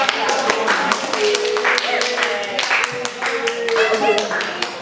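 A classroom group of students claps their hands together, steady fairly loud clapping, with voices talking faintly underneath.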